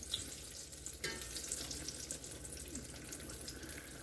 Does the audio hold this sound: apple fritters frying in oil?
yes